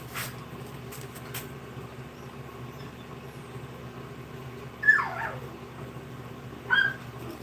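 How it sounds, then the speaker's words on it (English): Young puppies, six to eight weeks old, in a fur shed give two brief whimpering yips near the end, each a short rising cry, with faint clicks earlier over a steady low background hum. "The dog is just fine. They're puppies."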